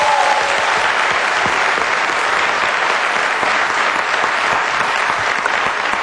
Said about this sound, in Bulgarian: Аплодисменти за нея